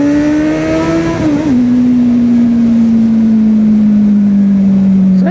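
A loud Kawasaki Z800 motorcycle engine revs, holding a steady high drone, rising briefly then settling into a constant hum, close by with no talking.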